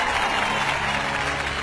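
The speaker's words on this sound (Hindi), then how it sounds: "ताली बजाओ ताली।" A crowd of spectators applauds in a Hindi-dubbed South Indian action film scene, a dense, continuous wash of clapping filling the short moment at a steady, fairly loud level.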